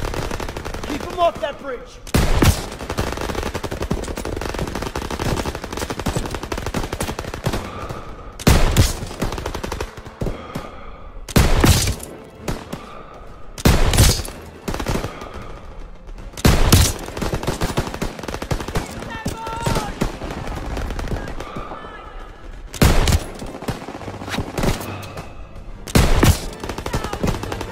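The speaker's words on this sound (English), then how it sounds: "MGs, open fire!" Repeated loud machine gun bursts and gunshots in the video game Call of Duty WWII, in a battle near a bridge over the Seine, with short pauses between volleys and voices shouting commands under the gunfire.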